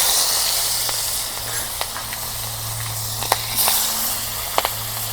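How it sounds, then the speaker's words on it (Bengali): Fish frying in hot oil for a Bengali home meal, a steady loud hiss and sizzle close by, broken by a few sharp pops and spits. "এখন মাছগুলো আমি ভেজে নিই একটা একটা করে"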